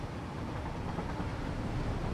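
A train in the Satisfactory video game rolls into a siding, a low, steady mechanical rumble at a moderate, even level with no voices.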